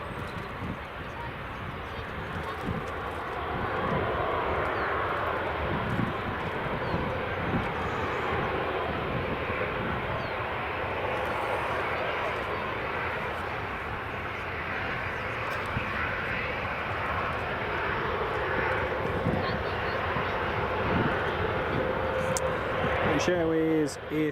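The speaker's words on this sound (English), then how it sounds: "Airways A319 coming in from London Heathrow on the approach" British Airways Airbus A319 arriving on approach from London Heathrow, a steady, broad jet roar holding for the whole stretch at moderate distance, with outdoor background noise and occasional talk.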